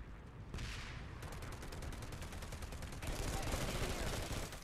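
Sustained automatic gunfire in Planetside 2, fast rhythmic rattling bursts that grow louder and denser toward the end, moderately distant, with faint voices underneath.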